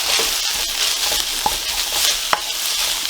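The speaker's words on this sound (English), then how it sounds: "So we'll stir that up." Carrot being stirred in a frying pan while cooking for a penne ragu, with a steady sizzle running throughout and a few soft utensil scrapes and knocks against the pan.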